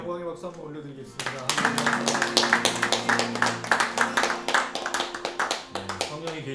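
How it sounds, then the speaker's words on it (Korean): Congregation at a Tuesday prayer meeting bursts into rhythmic applause, loud and sustained over several seconds, mixed with voices and music tones underneath. "하나님께 영광의 박수 한번 올려드리겠습니다"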